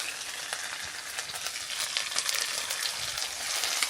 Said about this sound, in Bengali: এবার আমি এই পর্যায়ে আদা রসুনের পেস্টটা দিয়ে দেব।